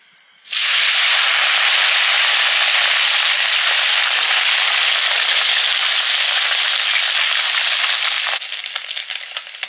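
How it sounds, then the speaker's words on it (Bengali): Small parshe fish hit hot oil in a wok and erupt into a loud, dense, hissing sizzle that starts abruptly and holds steady close up, easing slightly in the final second. "উনুন জ্বালিয়ে মাছগুলো ভাজবো।"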